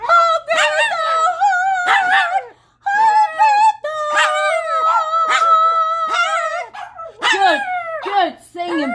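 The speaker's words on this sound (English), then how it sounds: "that was Renee's puppies." Several puppies howl and whimper at close range in overlapping, high wavering cries. The yips and drawn-out howls fill the stretch almost without a break.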